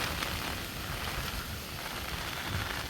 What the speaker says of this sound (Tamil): காற்றோடு சேர்ந்து மழையும் பெய்ய தொடங்கி இருக்குது.